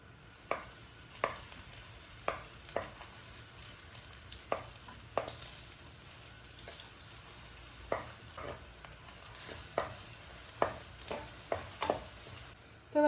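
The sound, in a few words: crushed garlic frying in hot oil in a clay pot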